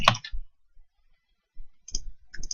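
Computer mouse clicks and keyboard keystrokes come in short sparse bursts separated by near silence, close and fairly quiet.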